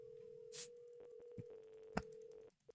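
Call flooding software plays a steady telephone tone with dialing beeps and a couple of sharp clicks over a faint line hiss, cutting off near the end, with no talking.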